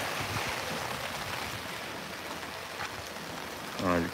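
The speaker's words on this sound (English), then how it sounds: "It's like the rain is picking up." Steady, heavy rain falls outdoors during a typhoon in Korea, a dense continuous hiss filling the whole span, with a brief tonal sound near the end.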